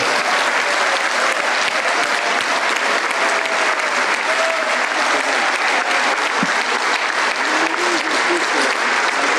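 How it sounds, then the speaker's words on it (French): Loud, continuous applause from a large audience at a Force Ouvrière union federation congress, a thick steady roar of clapping with faint voices and brief shouts mixed underneath. "vous pouvez vous applaudir 2 fois plus fort"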